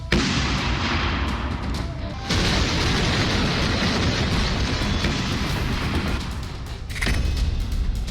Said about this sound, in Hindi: हमास के आतंकी ठिकानों पर बमबारी